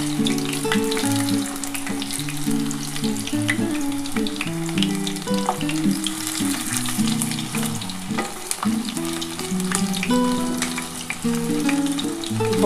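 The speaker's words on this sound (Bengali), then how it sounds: "আগে এই কটা ভেজে নিই বন্ধুরা" Chicken pakoras fry in a pan of hot oil, giving a steady, close sizzle that runs the whole time with a low tonal hum underneath and no talking.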